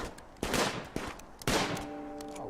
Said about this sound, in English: You didn't really have to shoot it while you were stood right next to it